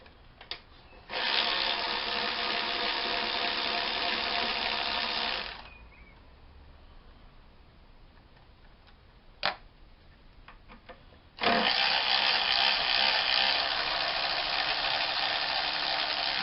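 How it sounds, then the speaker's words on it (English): Power tool, likely an impact or ratchet driver, running on 10mm alternator bracket bolts of a 2003 Mercury Mountaineer 4.8 V8, two sustained whirring bursts of several seconds each with a brief click between, close and moderately loud. "We're going to take this alternator bracket off on the top."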